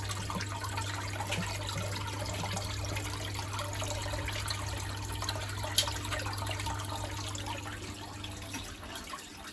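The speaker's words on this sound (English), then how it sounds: "there's a lot of water in it, but it's dropping down as long as the pump's working" Water drains and trickles through the pump of a Waterpik WFP3300 water flosser loaded with citric acid, a faint continuous gurgle over a steady low motor hum.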